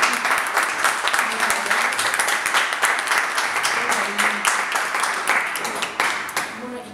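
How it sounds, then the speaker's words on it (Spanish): Audience at an art exhibition opening in Manzanares applauding, many hands clapping in a dense, sustained burst that thins slightly toward the end, with faint voices underneath. "un aplauso de avanzada"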